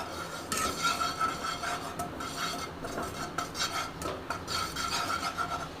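Flour being stirred in a pan for a white sauce pasta, with steady scraping and rubbing of a utensil against the pan and occasional sharper clinks, close and continuous without talk.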